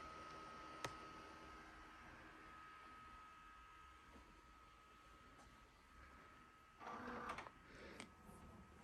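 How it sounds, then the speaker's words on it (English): A home printer preparing to print a digital art file gives a faint, steady mechanical hum with a single click early on and a short louder whirring burst near the end. "I'm gonna go ahead and press print."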